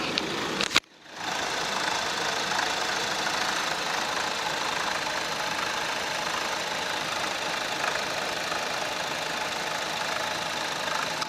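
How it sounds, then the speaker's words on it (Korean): A Chevrolet Alpheon EL240 engine idles steadily and evenly for about ten seconds after a brief sharp noise at the start, with no voices over it. "엔진 소음도 한번 들어보시도록 하겠습니다"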